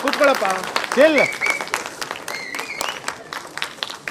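Applause from an audience at a film teaser launch rises under a loud announcer's voice with rising and falling pitch, then continues as softer clapping and crowd noise behind the speech.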